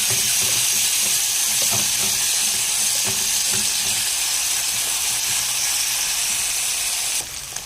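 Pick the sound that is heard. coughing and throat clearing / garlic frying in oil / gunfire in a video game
garlic frying in oil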